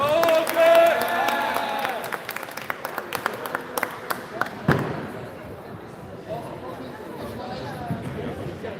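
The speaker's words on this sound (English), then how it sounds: "Let's get a round of applause for the Blue Alliance." Crowd at an FTC robotics qualification event in San Jose applauding the Blue Alliance teams, with scattered sharp claps and thumps that fade out, while an announcer talks over a loud arena.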